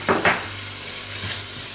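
A spoon stirs egusi paste with spices and Maggi in a cooking pot, giving a couple of quick scraping clatters near the start, then a soft steady sizzle with a light tap later on. No voices are heard.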